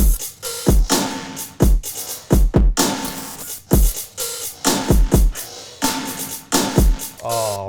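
A full drum beat loops with punchy kicks, a snare, a percussion element and three layered hi-hats, playing loud and steady in a repeating pattern with no talking over it.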